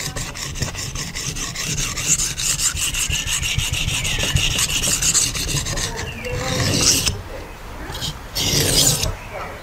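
A knife blade is drawn steadily across a sharpening stone in repeated close, rasping strokes, dense and continuous, with a few brief pauses and a change of rhythm near the end.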